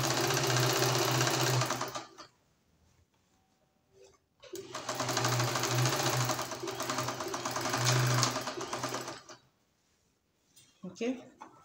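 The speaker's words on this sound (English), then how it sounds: "I'll start sewing." An electric sewing machine stitches a pencil skirt in two steady, close runs of rapid whirring, one of about two seconds and a longer one of about five seconds, with a brief quiet gap and handling noises between them.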